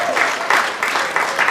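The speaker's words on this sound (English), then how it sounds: "Round of applause for Sam, please." Wedding reception guests applaud in a room, a steady patter of many hands with faint pulsing swells, fairly loud and close.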